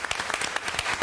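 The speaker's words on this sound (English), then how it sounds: "Let's applaud all of our candidates for their willingness to stand for office." Audience applause at a St. Pete City Hall candidate forum, a dense, steady patter of many hands clapping together for about a second, close and fairly loud.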